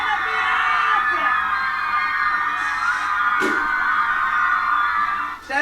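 Big crowd at a live show cheers, whoops and screams continuously, with high-pitched youthful voices dominating a dense, loud roar that barely dips before swelling again.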